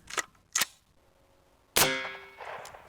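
Three sharp AR rifle shots of 5.56 rounds fired into thick stacked tires, each a loud crack, the last with a ringing metallic decay, spaced irregularly outdoors with no talk.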